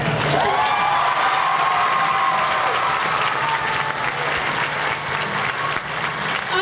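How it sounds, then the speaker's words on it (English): A crowd at an Irish Fair applauds and cheers, dense continuous clapping mixed with whoops and shouts, loud and steady throughout. "Let's give them a cheer again."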